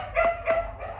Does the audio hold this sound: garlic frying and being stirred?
no